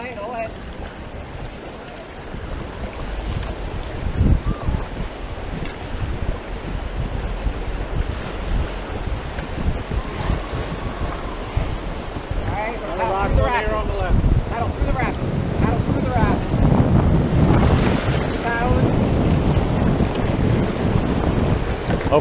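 Rapids rush and churn around a canoe paddled through rough river water, a steady broadband roar of turbulent water with wind buffeting the microphone, while people talk and call out over it.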